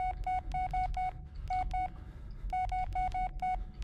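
Repeated touch-tone telephone dialing beeps in the Blair Witch video game, sounding in quick bursts of evenly spaced tones, with a pause partway through, then another run of tones over a low background hum.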